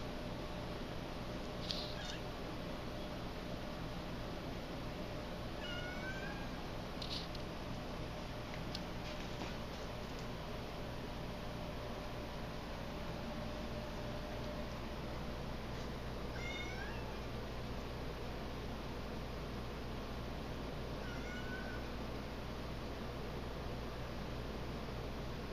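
A domestic cat meows a few times at scattered intervals, fairly faint and plaintive, over a steady low indoor hum with no talking.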